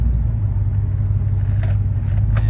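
A GM LS V8 truck engine idles steadily with the air conditioning running, a low, even rumble that holds constant and close without surging, no voices over it.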